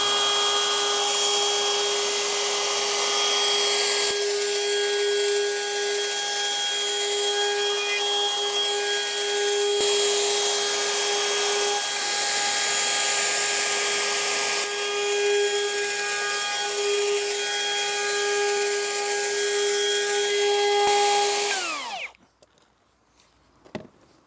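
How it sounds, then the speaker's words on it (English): A wood router cuts a staircase part for a double winder staircase, a loud continuous high whine held close for about twenty seconds before it winds down and stops near the end. "And then I'll just get this last bit of routing done."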